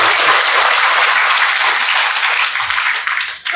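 Loud, dense applause fills a graduation ceremony hall at STIKES Maranatha Kupang, a continuous wash of clapping from a large audience that tapers slightly at the very end.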